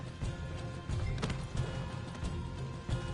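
Horse hooves clip-clopping in a video game during a payroll robbery, with several horses moving at a steady trot, fairly loud and continuous with soft clattering and a faint whinny, no talking.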